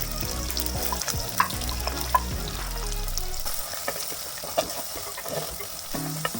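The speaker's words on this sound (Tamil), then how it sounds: "இப்போ வந்து நம்ம நறுக்கி வச்சிருக்கிற வெங்காயம் ஆட் பண்ணிடலாம்" Chopped medium onions frying and sizzling in a pan for village-style ayira fish kuzhambu, a steady close crackle with occasional stirring clicks and no talk.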